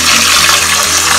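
Running water splashes steadily while anchovies are scrubbed with rock salt in a washing bowl, a loud continuous gush with no voices.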